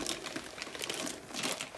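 Crinkling plastic bag as a rolled diamond-painting canvas is pulled out of it, a continuous crisp rustle with bursts of louder crackling, close and alone without speech.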